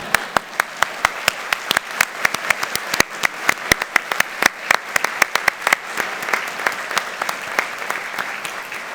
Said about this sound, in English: By applause.